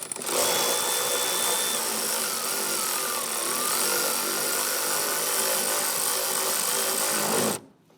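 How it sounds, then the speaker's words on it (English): A power tool whirs steadily and loudly for several seconds while tightening a bolt on a Jeep Grand Cherokee, then stops abruptly near the end. "I'll go ahead and tighten down this bolt"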